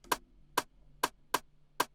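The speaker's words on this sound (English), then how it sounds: "So we got this snare." A snare drum sample from a drum pack for an FL Studio beat repeats five times in a steady rhythm, each hit short, crisp and bright, fairly quiet, with no voices.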